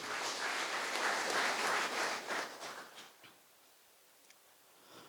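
Audience at a book launch ceremony applauds loudly for a couple of seconds, then the clapping thins out and fades to a few scattered claps and near-quiet.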